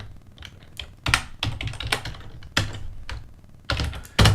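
Keys clatter on a computer keyboard as code is typed, quick bursts of close, crisp clicks separated by short pauses, alone without any voice.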